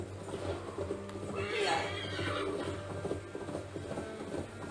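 A horse whinnies in the Assassin's Creed video game, a faint rising neigh set amid ambient game noise and low hum, with no speech over it.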